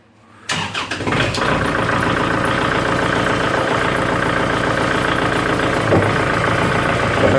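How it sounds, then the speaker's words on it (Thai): After a brief silence, the engine of a cassava lifting machine starts abruptly and settles into a loud, steady running chug that continues without a break, close by and with no talking. "เวลาเขาสตาร์ทเครื่อง"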